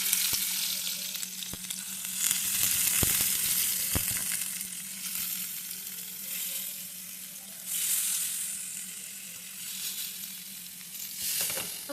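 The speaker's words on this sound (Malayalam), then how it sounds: "അപ്പോൾ ഈ മീൻ വെക്കുന്ന സൗണ്ട് നല്ല ASMR ആയിരുന്നു" Sardines coated in masala frying in a hot pan, a continuous loud sizzle with occasional sharp crackles and louder bursts as the fish shifts, no voices.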